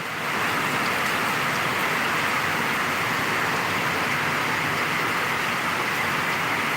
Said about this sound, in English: going to get a break from the rain?